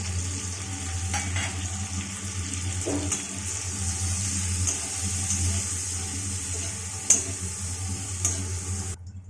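Whole cumin seeds and dried red chilli fry in hot oil in a home kitchen, a steady close sizzle and crackle with a few light ticks and no talking.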